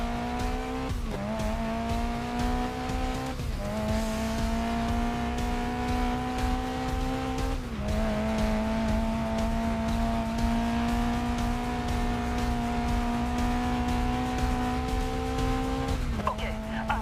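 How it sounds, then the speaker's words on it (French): A race car in GRID Legends skids with screeching tire squeal over a high, whining engine that climbs and drops back at several gear changes, loud and continuous through the whole stretch. "je dérape évidemment, vu que j'ai raté mon freinage"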